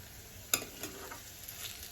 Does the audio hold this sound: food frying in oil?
yes